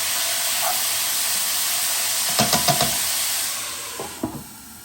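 Cabbage with a couple of tablespoons of water steams in a hot wok over high heat, a continuous loud hiss with a few brief clinks and taps partway through.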